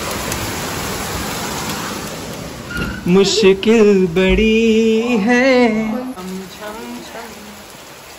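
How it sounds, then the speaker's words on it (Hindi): Very heavy rain pours in a steady dense hiss outside a village home and spatters into the room, loud throughout, while someone speaks over it for several seconds in the middle. "बारिश बहुत ही तेज़, बहुत ही तेज़"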